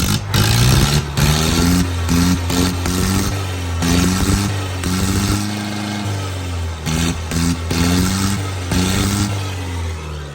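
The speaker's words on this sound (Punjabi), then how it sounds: "ਮਹਿੰਦਰਾ ਟਰੈਕਟਰ ਭੂਮੀ ਪੁੱਤਰ 575 ਕਰਤਾ ਆਪਾਂ ਸਟਾਰਟ" A Mahindra Bhoomiputra 575 tractor that puffs heavy smoke runs loud and close. Its diesel engine rises and falls in pitch over several revs, then settles into a steady idle.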